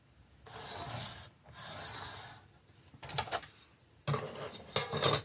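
A pencil tracing a line on paper for a 20x20 children's scrapbook album: scratchy rubbing strokes in several separate passes, close and dry, with louder, rougher scraping near the end.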